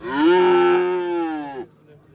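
A single long, loud moo from a young calf at a livestock market, steady and close, lasting about one and a half seconds before fading into quiet.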